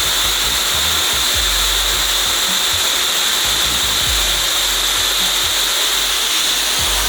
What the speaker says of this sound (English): I have it on the highest air setting and the lowest heat setting.